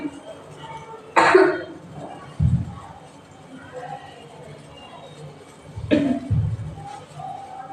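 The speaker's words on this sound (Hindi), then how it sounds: "बहुत खांसी आ रही है।" A child with a bad cough lets out two short coughing bursts several seconds apart, fairly close, amid quiet household background and some adult speech.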